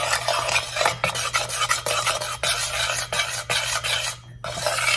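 A spoon stirs brownie batter in a bowl, making close, rhythmic scraping and rasping strokes with a faint low hum underneath.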